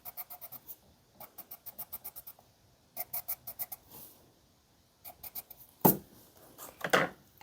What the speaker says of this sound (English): you can use your pencil to lay down the lines